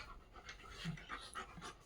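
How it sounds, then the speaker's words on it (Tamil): A native-breed dog pants in quick rhythmic breaths, close and fairly loud, with no talking over it. "நாட்டு நாய் தான்ப்பா."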